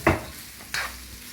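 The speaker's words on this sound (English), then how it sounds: "switch over to a spatula here and just get these nicely mixed in" A spatula stirs pre-boiled, drained pasta with fresh garlic and other aromatics in a hot pan, giving two distinct, close scraping strokes over a light sizzle, with no voices.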